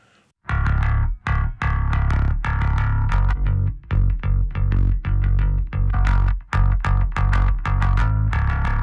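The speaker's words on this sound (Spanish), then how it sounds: "Ahora vamos a escuchar los dos bajos con y sin los plugins de distorsión." A bass guitar riff played through distortion plugins, thick and gritty with strong lows, in loud, close, rhythmic phrases with short gaps between notes, alone without voices.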